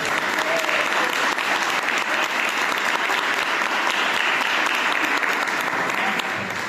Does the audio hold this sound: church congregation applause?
yes